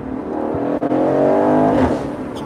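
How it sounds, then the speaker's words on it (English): Aston Martin Vantage Roadster from 2021 revving hard, a loud close engine snarl rising through an upshift with a brief dip and crackle of exhaust pops, no talk. "The snarl on the upshift is so good."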